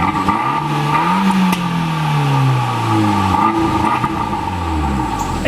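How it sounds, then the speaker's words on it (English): A Fiat 124 Spider Abarth's four-cylinder engine drones and revs steadily through four exhaust pipes, its exhaust note rising and falling in pitch throughout, loud and close. "it also has 4 exhaust pipes, which may seem like overkill, but it does sound pretty good"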